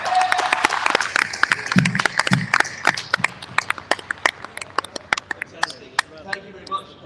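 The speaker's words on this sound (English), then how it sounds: "Round of applause," A round of applause from an audience at a live NFT event, sharp scattered claps that start loud and dense then gradually thin out and fade, with voices audible beneath.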